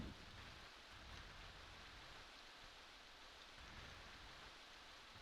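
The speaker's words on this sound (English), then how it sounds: "it still makes that crazy rain noise and everything" Steady rain hissing down in the video game Aidyn Chronicles near a port town bridge, a faint, unbroken wash of noise with no other sounds.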